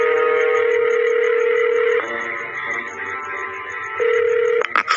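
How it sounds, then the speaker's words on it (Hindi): A mobile phone being dialed, with steady electronic tones changing pitch in two-second steps over a pulsing high beep, ending in a quick burst of short key tones, loud and close with no talking. "अपने मोबाइल से किसी को फोन करने लग जाता है"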